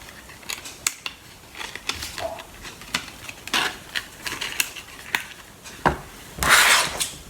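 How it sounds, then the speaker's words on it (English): Paper rustling, creasing and tab-snapping while a paper Halloween treat box is folded and fastened by hand, a close run of irregular soft rubs and crisp clicks with a louder crinkle near the end. "fold up your little treat bag. Stick it down inside, pull your little tabs together and fasten your box."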